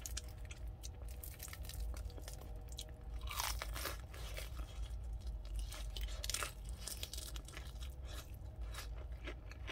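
Someone eats cheap fried chicken from Chicken Plus up close, with steady crunchy bites and chewing throughout and no talk.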